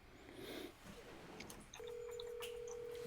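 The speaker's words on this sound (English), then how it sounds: "I'm going to call ColdFlake live on my phone." Phone dialing a call: faint key tones and clicks over background noise, then a steady single ringing tone holding for over a second near the end.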